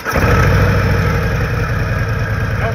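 A 2023 Harley-Davidson Street Glide CVO, a heavy 900-pound motorcycle, with its engine running at a steady, loud, close idle and a deep low rumble throughout.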